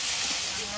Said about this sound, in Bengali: পুঁই শাক আর আলুটা ভালোভাবে ভেজে নেব।